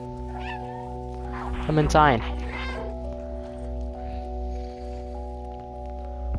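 A cat meows in the video game Stray, a short rising mew near the middle over steady humming game music, with a person speaking briefly before it.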